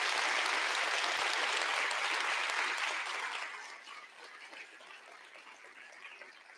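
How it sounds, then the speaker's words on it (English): A theater audience claps at a community talks event, a loud dense wash of applause that thins out about halfway through into lighter, scattered clapping. "Let's give them all a round of applause."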